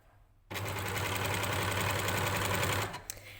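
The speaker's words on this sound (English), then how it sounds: "Now keeping the edge of my fabric lined up with that line, I can overlock that edge." An overlocker sewing machine serging the edge of a piece of fabric, starting abruptly and running in a fast, loud continuous whirr for about two seconds before stopping, with a faint click afterward.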